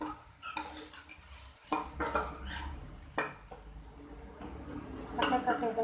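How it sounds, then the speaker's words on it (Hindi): Eggplant is being stir-fried with masala in a pan, with scraping spoon strokes, clinks of utensil against metal and a light sizzle, intermittent and close, while someone talks over it. "बैंगन डालने के बाद अच्छी तरह इसको भूनेंगे"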